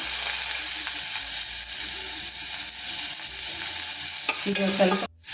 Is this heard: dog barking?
no